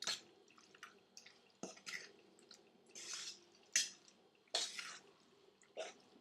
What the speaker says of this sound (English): Just kind of mix these well so that it combines well with the white sauce.